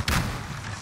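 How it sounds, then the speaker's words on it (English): A stun grenade detonates in Call of Duty Warzone with a single loud, sharp bang followed by a rumbling tail. "Stun grenade out!"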